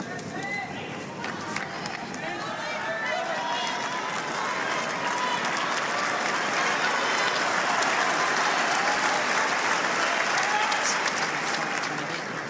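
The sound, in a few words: Wimbledon crowd cheering and applauding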